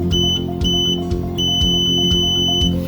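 A DM40 multimeter in continuity mode beeps sharply in several short, evenly spaced bursts as its test leads are briefly shorted and separated, heard up close with steady background hum and no speech.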